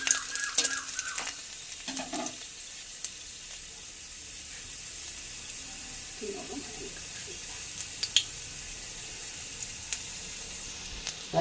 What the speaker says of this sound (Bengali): এবার চার পাঁচ কোয়া রসুন ভেজে নেব